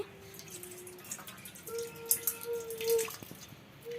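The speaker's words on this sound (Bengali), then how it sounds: "এর জন্য মটরের ডালটা ধুয়ে নিচ্ছি" Split pea lentils being rinsed in water at a kitchen sink, with a soft trickle and a few light drips and sloshes, fairly quiet and close, no voices.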